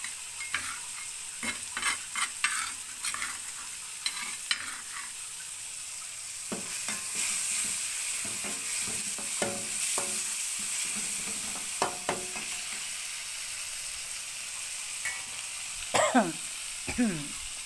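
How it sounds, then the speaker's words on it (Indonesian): Chili, shallot and garlic paste sizzles steadily as it is stir-fried in a pan for cassava-leaf stir-fry, with repeated scraping clinks of a spatula stirring throughout, close and fairly loud. "Ini goreng sampai wangi, guys."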